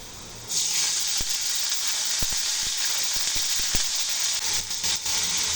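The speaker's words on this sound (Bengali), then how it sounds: "এখন সামান্য পরিমাণ পানি দিয়ে দেবো" A little water hits a hot pan of frying onions and cardamom, setting off a loud, steady sizzle that holds throughout, broken by faint clicks of stirring; no one speaks.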